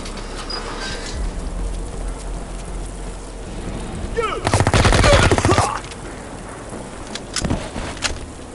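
A rapid burst of automatic submachine-gun fire in the Project IGI video game at a military airbase, loud and sharp for about a second, with a few scattered single shots afterward over ambient game background.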